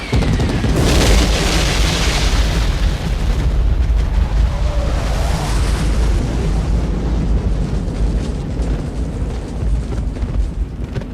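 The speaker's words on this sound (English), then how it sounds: "It's a really expensive explosion, but it looks really good and it's real." A loud, deep napalm explosion from a film booms and rumbles on, a long roaring blast that slowly fades over several seconds.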